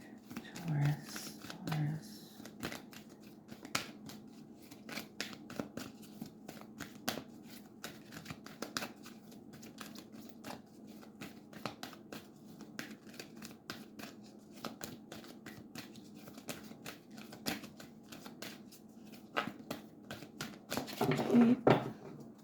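Tarot cards are shuffled by hand in a quiet room, with continuous fast papery riffling and clicking for about twenty seconds and a low murmur of voice underneath.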